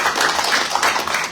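A church congregation applauds, a dense, even wash of many hands clapping close and loud for a short burst, with no voices standing out.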